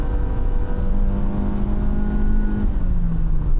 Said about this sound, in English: Now, speed going up a hill on the interstate.